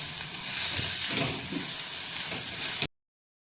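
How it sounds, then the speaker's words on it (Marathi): Dried Bombay duck and onion fry in a pan with a continuous sizzle and soft stirring, then the sound cuts off abruptly to near silence just before the end. "बोंबील भाजून झालेत मस्त कांदा आणि बोंबील एकजीव झालेत"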